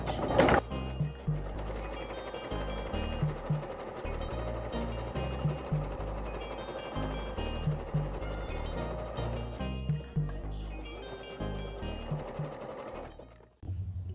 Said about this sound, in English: right now I'm doing a zigzag stitch around all raw edges to keep it from fraying